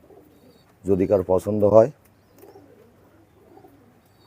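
Imported bloodline high-flying pigeons give a short burst of several rhythmic coos, loud and close, followed by faint background noise and a brief spoken remark.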